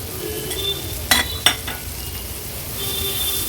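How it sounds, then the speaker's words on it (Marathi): Bitter gourd stir-fried in spice masala over a high flame: a steady close sizzle with stirring, broken by two sharp clinks of a utensil against the pan. "कारली व्यवस्थित ह्या मसाल्यात परतून घेऊया"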